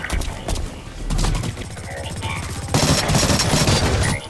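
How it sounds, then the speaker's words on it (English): Rapid bursts of submachine gun fire from a burst-fire SMG in the shooter game Blacklight Retribution, sharp clustered shots in quick volleys with mechanical clatter between, loud and close. "I'm not too good with the burst fire SMG."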